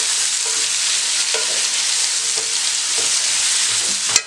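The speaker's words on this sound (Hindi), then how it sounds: "प्याज डाल दें और प्याज को आपने लाइट ब्राउन कलर होने तक फ्राई करना है।" Onions frying with cumin seeds in a pan, a steady bright sizzle that runs throughout, with occasional soft stirring knocks and a louder clack near the end.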